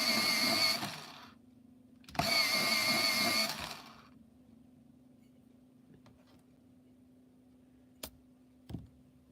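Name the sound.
pencil sharpener sharpening a coloring pencil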